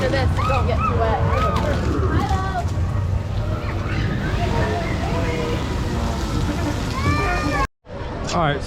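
Water sprays steadily at a splash pad in Magic Kingdom, a continuous hiss running through the whole scene, with children's voices and adult talk on top until it cuts off abruptly near the end.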